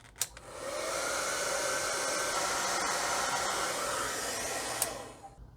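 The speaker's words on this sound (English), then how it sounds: "Let me hit this with a hairdryer and I'll show you" A hair dryer runs steadily at close range for about five seconds, drying acrylic paint on a Warhammer 40K Astra Militarum Basilisk miniature, with a brief click at the start and the end and no talking.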